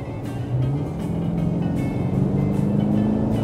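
A BMW M8 Competition with 625 horsepower, in Sport Plus mode, accelerates hard at full throttle, its engine note climbing steadily and loudly from inside the cabin with no talk over it.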